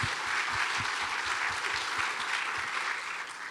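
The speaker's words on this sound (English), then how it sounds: "please give them a warm," Warm audience applause at a community event in the Tampa area, a full, even wash of clapping that holds steady and fairly distant-sounding, with low thumps underneath and no talking.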